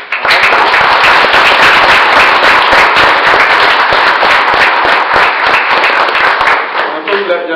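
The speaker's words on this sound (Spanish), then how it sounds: "démosle otro aplauso" An audience at a technical presentation on Android and Arduino breaks into loud, sustained applause, sharp overlapping claps close and dense for about seven seconds before tapering off at the end.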